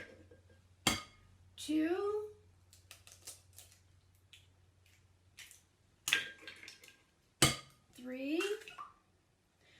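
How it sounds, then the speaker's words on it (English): Three eggs cracked one after another into a mixing bowl, each a sharp tap followed by a brief wet splat, spaced several seconds apart with a little faint background noise between them and a child's short spoken counts in the gaps. "So let's crack them and put them in."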